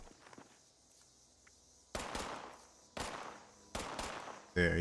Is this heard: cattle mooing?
no